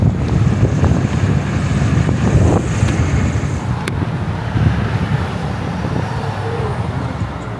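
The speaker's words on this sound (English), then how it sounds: "Oh, it's windy out here." Strong wind buffets the microphone outdoors near the waterfront, a loud low rumbling roar that holds throughout, with faint scattered background sounds underneath.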